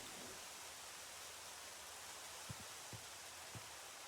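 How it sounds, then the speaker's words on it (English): Steady hissing rain in a farming video game, with a few soft low thumps scattered near the end, quiet and continuous throughout. "And it's raining again."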